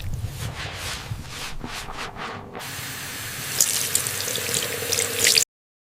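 Cold water from a kitchen tap hisses steadily into a sink, preceded by a few brief rubbing and splashing sounds, then runs continuously before cutting off abruptly.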